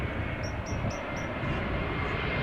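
Jet engine roar of an Embraer 175 airliner arriving at Amsterdam Schiphol Airport, a steady broad rumble with a faint high whine and light chirps above it, continuous and fairly close.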